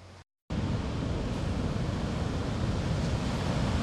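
Surf breaking on the rocky coast of Corsica, a close, continuous wash of waves with wind rumble, starting after a brief silent gap.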